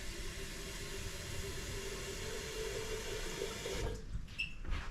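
Water pours steadily from a tap into a cooking pot, a constant rushing splash that thins out near the end.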